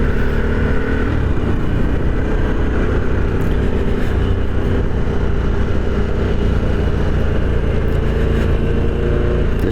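A Harley-Davidson Sportster 1250cc motorcycle being ridden, its engine a loud continuous rumble with wind noise, steady and close throughout.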